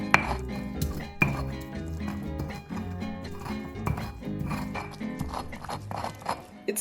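Garlic, salt and peppers ground in a stone molcajete with a stone pestle, a close, steady run of knocking and scraping strokes with sharper clacks now and then, with no talking over it.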